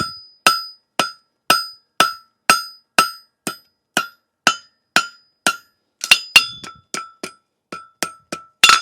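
A hammer strikes metal on the beveled edge of an anvil in a steady, even rhythm of about sixteen ringing blows, with a faster, more cluttered burst of strikes near the end during horseshoe forging.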